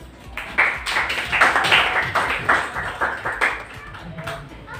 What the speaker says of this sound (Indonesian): berikan aplaus untuk teman kalian